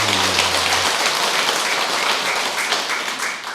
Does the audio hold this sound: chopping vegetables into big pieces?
no